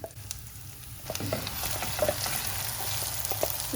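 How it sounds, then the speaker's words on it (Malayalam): Ground masala paste frying with browned onions in a pan for poached egg curry, a steady sizzle broken by repeated spatula scrapes and light taps. "ചേർത്ത് നന്നായിട്ട് ഈ അരപ്പ് മൂപ്പിക്കണം"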